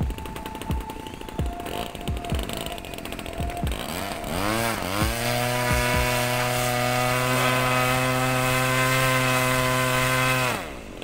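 An expensive toy model airplane's small engine before takeoff: a few sputtering pops, then it catches and revs up into a loud, steady, buzzing drone held close for several seconds before cutting out.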